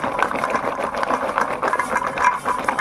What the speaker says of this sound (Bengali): এবার আমি ঝুড়িতে এভাবে ভালো করে ঘষে নেব